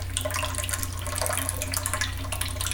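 Potato juice poured from a small bowl for German potato pancakes, a steady close trickle of liquid running over low background hum without talk.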